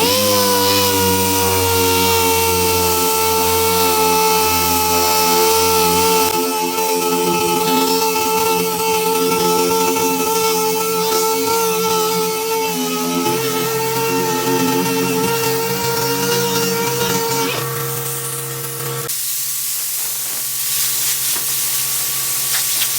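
A dual-action (DA) sander works over sun-damaged car paint with a steady, continuous whirring hum that stays loud and close throughout and shifts pitch slightly midway.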